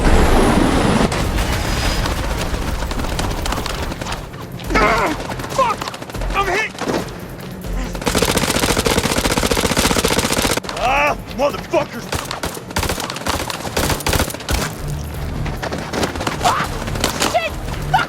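Gunfire erupts in the House of Ashes video game, a loud, sustained barrage of shots and bursts running throughout, layered with shouted voices and heavy combat noise.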